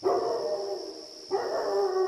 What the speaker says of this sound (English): A dog is howling somewhere in the neighborhood.